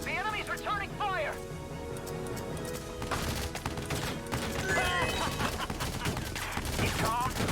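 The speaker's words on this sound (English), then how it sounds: "The enemy's returning fire." Enemy gunfire in the video game Valkyria Chronicles 4: bursts of rifle and machine-gun shots crackle through the battle, mixed with music and sound effects, with a voice speaking over the first seconds.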